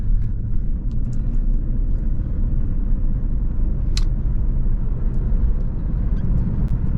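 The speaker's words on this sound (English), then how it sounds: "the exhaust is deep. I mean, it sounds good." Lexus SC430 coupe, 23 years old, driving along with a steady deep exhaust rumble close by, low and continuous with no talk over it.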